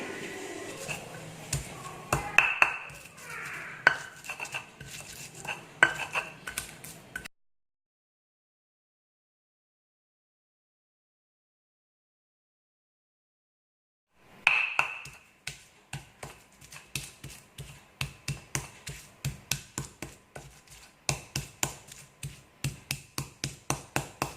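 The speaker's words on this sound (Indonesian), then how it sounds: "kita mengulek dulu dia punya bumbu halus" Spice paste is pounded with a stone mortar and pestle (ulek) for sambal goreng kentang hati, close, sharp rhythmic knocks in two bursts separated by a long silence, the second run quick and regular.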